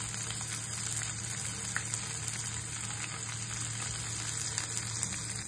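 Paneer frying in oil in a pan over lowered heat, a steady close hiss and crackle of sizzling oil that holds evenly throughout, with no one talking.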